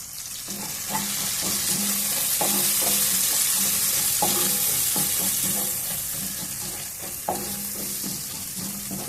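Pounded masala powder fries with softened tomatoes in a pan for a fish curry, steady hissing sizzle under repeated rhythmic scraping strokes of a spatula, close up and without talk.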